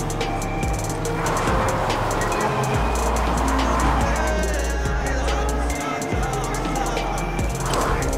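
A car engine revs and drones in the video game Fortnite, loud and close with shifting pitch and gear changes, layered with busy game effects and a low rumbling bed.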